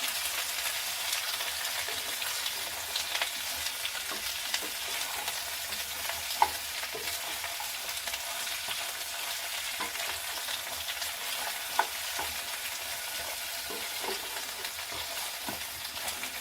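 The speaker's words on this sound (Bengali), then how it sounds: "পাঁচ থেকে 7 মিনিট ঝিঙেটা একদম লো ফ্লেমে আমি নাড়াচাড়া করে নেব।" Sliced ridge gourd stir-fried over a low flame in a pan, giving a soft continuous sizzle with light stirring clicks throughout, fairly quiet and without talk.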